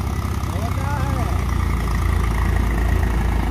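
A tractor engine idles and rumbles steadily on the Keshkal mountain ghat road in Chhattisgarh, close and continuous, with traffic and voices mixed in around it.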